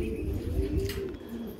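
Pigeons give soft, low cooing calls close by, a brief murmuring phrase with faint wingbeat rustle behind it.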